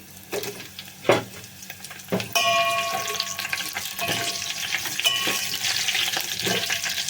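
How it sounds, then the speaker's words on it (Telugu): Garlic, dried red chillies and brinjal pieces frying in a tempering give a steady close sizzle, with stirring knocks and scrapes in the first few seconds and light splashy crackle throughout. "ఈ ఎల్లుల్లిపాయలు ఎండుమిరపకాయలు ఇవన్నీ వేగిపోవాలండి"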